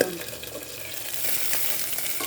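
Pork sizzling as it fries in hot cooking oil for adobo, a steady close crackle and hiss that grows slightly denser and louder throughout, with no talking.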